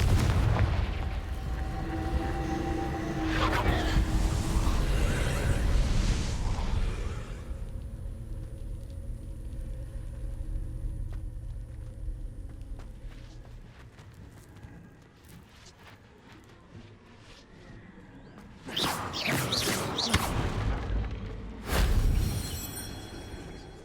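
A Confringo fire-blast spell in Hogwarts Legacy goes off as several booming explosive bursts. Heavy low rumbles open the scene, then sharp loud cracks follow near the end, with no talking.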